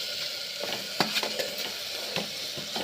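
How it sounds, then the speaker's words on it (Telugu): Chicken fries in a pan after ginger and garlic, a dense, close sizzle broken by a few scraping stirs and clinks of a spoon. "చికెన్ వేద్దాం. ఇది మగ్గాలి చికెన్."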